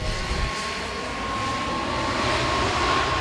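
A jet airliner descends overhead on approach to runway 34 at Kagoshima Airport in rural Kyushu, a broad, steady roar of engine noise holding loud and close throughout, with no talking.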